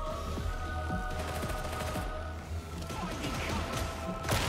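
Gunfire from a gun in the video game Darktide: dense rapid bursts of shots and crashing impacts, loud and continuous over busy game noise, with a harsh blast near the end.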